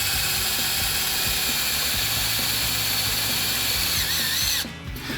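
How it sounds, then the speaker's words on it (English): A power drill driving self-tapping screws into a Jeep Gladiator crossbeam: a loud, continuous close-up whirring drive with a ratcheting, grinding edge, stopping suddenly near the end. "now we're just going to use the self-tapping screws here"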